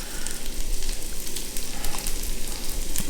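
Ribeye steak cooks with garlic and onions in a hot pan, giving a steady close sizzle of crackling, spitting fat that holds throughout.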